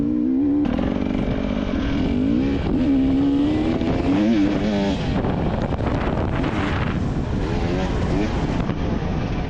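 An enduro race car drives a cross-country track with a steady, loud engine roar whose pitch rises and falls as it revs, close to the microphone, with wind buffeting throughout.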